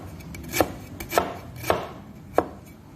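A knife slices Thai vegetable greens onto a cutting board in four crisp, evenly spaced strokes, close up, with quiet rustling between cuts.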